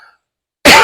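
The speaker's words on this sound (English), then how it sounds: "I always cough when I do these YouTube videos" A single sharp cough bursts in near the end after near silence, loud and close, with a brief faint murmur at the very start.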